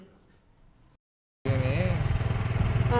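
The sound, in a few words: motor vehicle (likely motorcycle) being ridden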